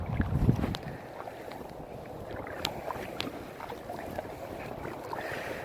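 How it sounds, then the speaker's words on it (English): Kayak paddling on Lake North, with soft water swishes and a few drips close by over steady outdoor wind noise, starting with a brief louder splash. "We're kayaking a little bit like north."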